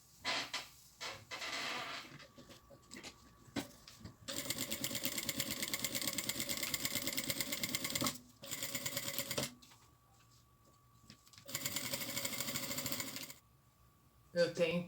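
A sewing machine stitches fabric for a backpack, running in loud, steady mechanical bursts of a few seconds each, separated by short quiet pauses.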